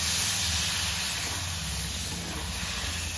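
Water poured onto hot ground cumin and coriander paste hisses and spits steadily in a pan while cooking chicken biryani, a close, continuous sizzle with no voices.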